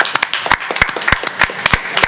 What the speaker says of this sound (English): we got to give Mr. Eddie Hearn and Matchroom a round of applause for tonight